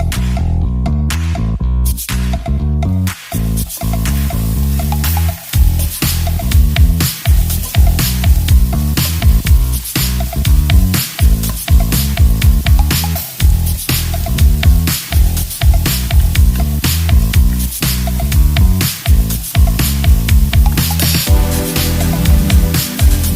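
Sausage browns in a hot pan with a loud, continuous hissing sizzle, peppered with rapid crackles and pops throughout.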